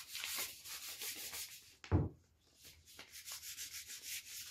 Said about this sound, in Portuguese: Vamos lixar, ó.